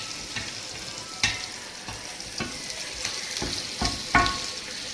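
Squid sizzles steadily in hot oil, with scattered scraping and clinking as it is stirred, close by and with no talking.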